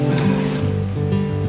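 A minivan's engine idles steadily after being started, a loud, close, continuous hum with stable low tones and a faint wavering texture, no voices over it.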